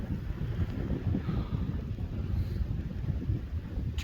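Blizzard wind buffets the microphone in a steady low roar with gusty rumbling throughout, loud and close, with no speech over it.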